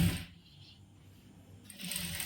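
Sewing machine stitching the neckline of a churidar, with two short bursts of motor whir at the start and end and a quiet pause between them.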